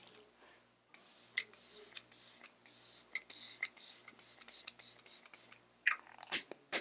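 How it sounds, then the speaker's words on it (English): Glow Recipe Watermelon Glow Ultra Fine Mist is spritzed across a face in a rapid series of short, close, airy pump bursts, with quiet pauses between them. "I'm just going to spray it all over my face."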